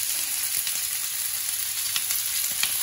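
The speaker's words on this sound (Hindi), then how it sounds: "अब मैं इसमें डालूंगी प्याज" Onions frying in a pan with garlic for a paneer dish, a steady close hiss and sizzle with scattered soft crackles and faint stirring, no talking.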